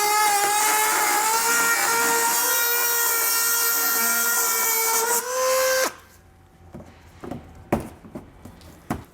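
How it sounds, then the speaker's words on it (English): A Dremel rotary tool cuts through vehicle bumper material on a 2022 Kia Telluride, a loud high-pitched whine lasting several seconds before it stops, leaving scattered scraping and clicking handling noises. "let's go ahead and remove the material."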